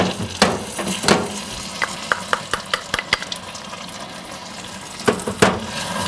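Hot, light-brown peanut brittle syrup with vanilla and butter just added is stirred with sharp bubbling sizzles and a run of crisp scraping clicks, loud and close, with no voices.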